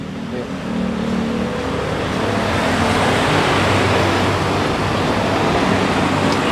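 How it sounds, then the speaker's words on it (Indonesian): Cabin and road noise from inside a moving tow truck, a steady dense rumble of engine and tires with traffic around, continuous and fairly loud. "Kita akan naik mobil storing SAC."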